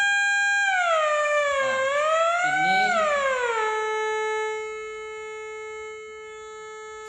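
An audio generator tone played through a speaker, a steady electronic whistle that bends down, up and down again in pitch before settling on a lower held tone, with brief speech near the start.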